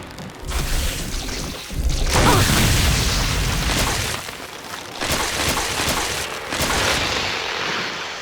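Flame rounds from a grenade launcher in Resident Evil, heavy booming blasts and a roaring burst that swell and fade across several seconds, loud and close with a few sharper cracks.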